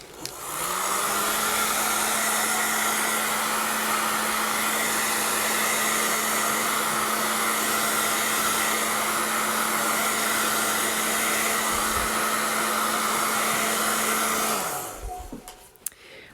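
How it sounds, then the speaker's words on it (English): A hair dryer blows on wet paint on an art piece. Its loud, steady whir and motor hum run without a break, then it clicks off near the end. No one speaks. "So let's do a quick blow dry."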